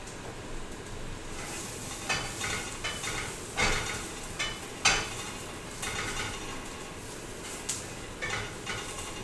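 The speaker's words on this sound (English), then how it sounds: "We've got our 4 pancakes in, the burner is on, and let them go for a minute." Four pancakes sit on a hot burner with a soft, steady sizzle, punctuated by scattered clicks and scrapes of utensils against pans, close and moderately quiet.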